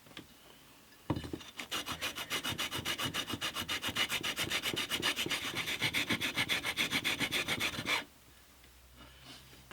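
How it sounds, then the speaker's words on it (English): An acoustic guitar fretboard is sanded with 120 grit sandpaper in quick, even back-and-forth strokes. The rhythmic rasping starts suddenly, holds for about seven seconds, then stops. "I'm now going to switch to 120 grit."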